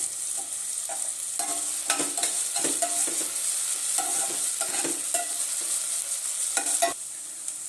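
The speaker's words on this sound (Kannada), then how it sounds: "ಚೆನ್ನಾಗಿ ಮೆತ್ತಗಾಗೋ ತನಕ ಹುರ್ಕೊಳ್ಳೋಣ" Tomato and salt sautéing in a pan for avarekalu saagu, a steady soft sizzle broken by repeated scraping stirs of a spoon against the pan, close and with no talk.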